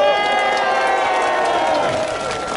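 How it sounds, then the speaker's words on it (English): A crowd at a Stop Asian Hate candlelight rally in Seattle applauds and cheers loudly, steady clapping mixed with whoops and shouts filling the whole moment, close and dense throughout. "Can we get a big round of applause for everyone that has spoken up here today?"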